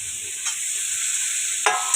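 Drumstick vegetable frying with turmeric in a pan, a steady hissing sizzle with a couple of brief stirring scrapes, close and continuous with no voices.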